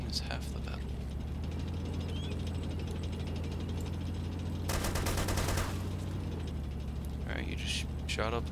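Gunfire in the combat video game Arma 2, a burst of rapid automatic shots for about a second in the middle, set against a steady low hum, with voices talking around it.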